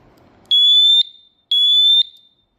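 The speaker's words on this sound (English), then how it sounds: "Next we have a Cavius smoke alarm." Cavius smoke alarm sounding its test tone, two loud, piercing high beeps about half a second each separated by a brief pause, close and alone.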